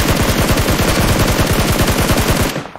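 Fast, continuous automatic weapon fire in PUBG Mobile, loud, close and evenly rhythmic, keeping up for about two and a half seconds before cutting off abruptly.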